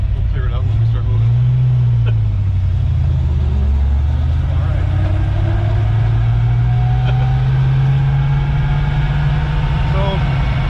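A 1968 Plymouth Road Runner that sat parked in a field for 25 years idles steadily up close with a low, rumbling drone that rises and falls slightly, while a voice speaks briefly over it.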